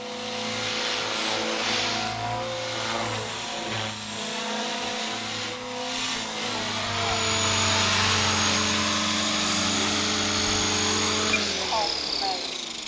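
A Blade 300 CFX radio-controlled helicopter whines and buzzes in flight, its rotor pitch shifting as it maneuvers, heard steadily nearby with a person talking over it.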